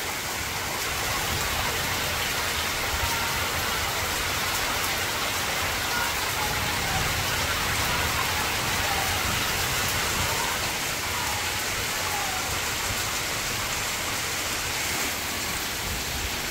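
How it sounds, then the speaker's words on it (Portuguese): Heavy rain pours steadily in Surubim, Pernambuco, Brazil, a dense, continuous wash of drops on surfaces with running water beneath, loud and unbroken throughout with no voices. "A chuva chegou, viu?"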